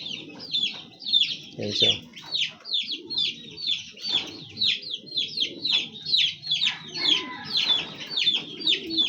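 Backyard chickens clucking in a steady run of close, repeated calls. Pigeons are also kept there, someone speaks briefly, and there is some rustling underneath.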